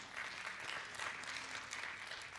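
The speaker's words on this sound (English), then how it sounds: "a golf clap ain't gonna work it" A church congregation gives a light, polite golf clap, a soft continuous patter of many hands spread across the room, fairly quiet and even throughout.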